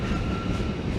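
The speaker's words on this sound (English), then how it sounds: "90s, electric freight locomotives" A steady, loud rumble of a Class 90 electric freight locomotive passing close by, with a faint high tone riding over the continuous roar.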